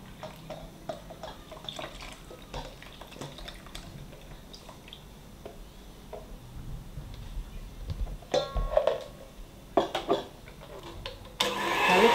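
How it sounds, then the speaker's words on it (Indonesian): Hand mixer whirring through steamed sponge cake batter made with Sprite and thick coconut milk at low speed, a steady motor hum with clinks and scrapes, growing louder and harsher toward the end. "Kita kocok dengan speed rendah dulu ya"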